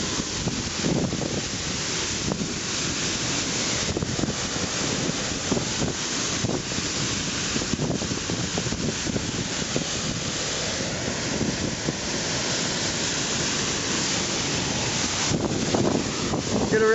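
A waterfall on a creek gives off a dense, steady, close roar, mixed with heavy wind buffeting against the microphone throughout and a few faint bumps.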